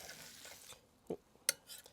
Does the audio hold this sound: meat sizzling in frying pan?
yes